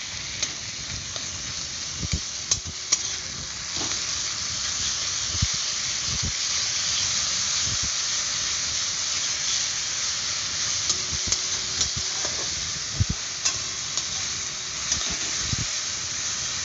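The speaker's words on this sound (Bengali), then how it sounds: "ভালো করে নাড়াবো।" Onion paste frying in oil in a pan while being stirred, a continuous close hiss and sizzle broken by repeated sharp taps and scrapes of the spoon against the pan, with no talking.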